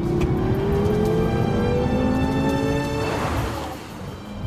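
A 2014 BMW M6 Gran Coupe, a heavy 4,600-pound car, lapping a racetrack: a loud, close engine drone climbs steadily in pitch under hard acceleration, then shifts and settles, with no voices.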